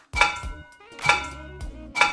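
A hammer striking a frying pan three times in a slow, even rhythm, each hit a bright metallic clang with a ringing tone that quickly fades, close and alone.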